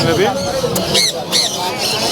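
Harsh, loud squawks from a pet macaw burst out over overlapping conversation at the Mirpur 1 bird market, a couple of sharp calls in quick succession.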